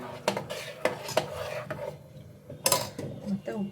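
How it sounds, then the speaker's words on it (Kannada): Rice being stirred into a pot for gee rice, a breakfast dish, with several sharp scraping clinks of a spoon against the metal in an irregular rhythm, close and moderately loud. "ಅಕ್ಕಿ ಹಾಕ್ಬಿಟ್ಟು ಒಂದ್ಸಲ ಮಿಕ್ಸ್ಕೊಳ್ಳಿ"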